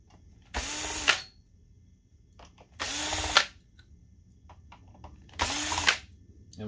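Power screwdriver backing out large screws from a BenQ MP622 DLP projector, three loud whirring bursts of about half a second each, spaced about two seconds apart with quiet handling in between.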